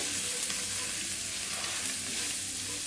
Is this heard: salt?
yes